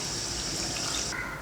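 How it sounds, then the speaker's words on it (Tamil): Water poured from a tumbler into a pot of raw mutton with turmeric, tomato, curry leaves, salt and sesame oil for Chettinad mutton chukka, a close, steady hiss of running liquid that trails off near the end. "இதில் 1/2 டம்ளர் தண்ணி"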